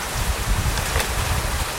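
Steady rain falls outdoors, a dense, even patter that fills the whole short stretch at a constant level, with no voices over it.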